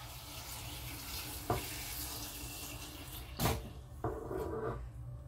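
Tap water runs into a small cooking pan holding broad beans in a home kitchen, a steady moderate wash of flow with a few brief knocks and clatters from the pan and cupboard.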